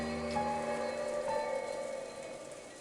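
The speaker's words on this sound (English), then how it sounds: "the meal ended up being so quiet that you couldn't ignore the sound of the rain sneaking into the dining hall" Rain patters steadily into a dining hall in the visual novel Umineko When They Cry, a soft continuous wash under a faint low tonal background, with no voices.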